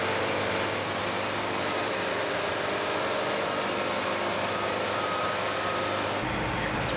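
A sawmill makes its first cut under the sapwood of a log: a loud, steady, broadband mechanical roar that holds for several seconds and drops away abruptly near the end.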